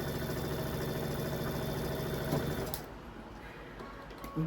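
A sewing machine runs steadily at close range while stitching a quilt block, a continuous even whirr that stops partway through, leaving quiet handling noise.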